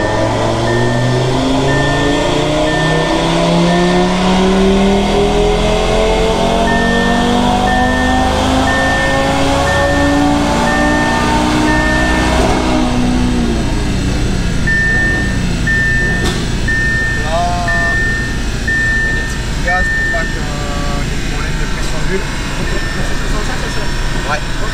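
An Audi TT RS tuned to stage 2 on E85 revs on a four-wheel-drive dyno, its engine climbing loudly in long rising pulls, then dropping back to idle with pops and a steady fan hum.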